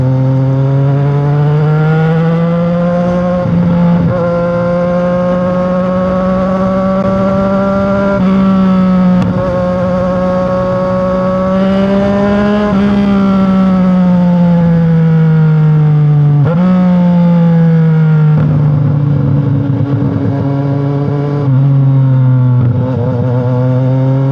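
A 675 NK motorcycle with a full system exhaust held at high RPM, a loud, continuous close engine drone with strong harmonics that rises and falls slightly through several gear changes, with no talk.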